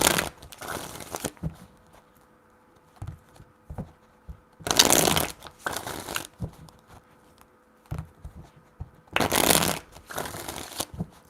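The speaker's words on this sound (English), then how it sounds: "4 shuffles." Tarot cards being shuffled by hand, three distinct bursts of riffling, each about a second long, separated by quieter pauses with small handling taps, close and fairly loud.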